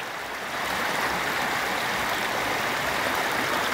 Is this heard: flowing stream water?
yes